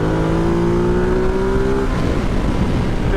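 Ducati Multistrada motorcycle engine accelerating hard while overtaking, a loud rising whine that climbs steadily in pitch before the note breaks into a rougher, gravelly roar, heard close with no talk.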